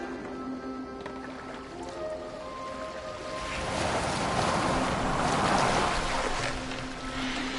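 Viking longboat sailing across open water in Assassin's Creed Valhalla, a wash of waves and wind that swells louder midway, with faint creaks and tones in the background.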